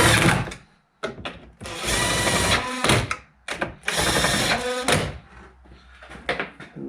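A power tool whirs in bursts while tightening nuts on a Renault Kangoo door mirror, with several run-ups separated by short pauses and clicks, close by and with no speech.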